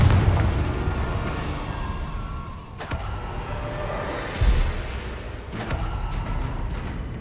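Confringo blasting spell in Hogwarts Legacy, a loud booming explosion with sharp cracks recurring about three times over dense game combat noise.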